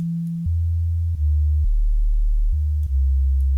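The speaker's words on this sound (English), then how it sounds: "turn that to a sine wave to make everything shake in the club" A deep sine-wave sub bass synth patch from Massive plays a few sustained low notes that step between pitches, smooth and loud with clean note changes and nothing else heard.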